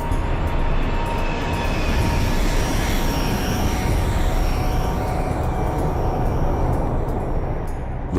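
Kazakhstan Airlines Flight 1907 airliner descending before the 1996 Charkhi Dadri mid-air collision, its engines giving a steady, loud, dense roar that holds unbroken throughout with no voices.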